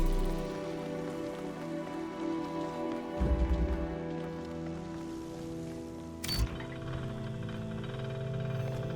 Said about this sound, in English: Thank you for making it rain.